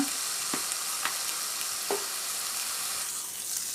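Large pieces of chicken liver frying in oil for a pepper fry, a steady soft sizzle broken by a few light spoon taps as the pieces are stirred, close but fairly quiet; no talking.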